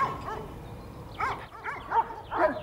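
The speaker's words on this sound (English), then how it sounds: "The livestock guardian dog cannot be chased away. It defends its flock as long as it feels danger." Livestock guardian dog barking, a few close, sharp barks spaced unevenly over a couple of seconds.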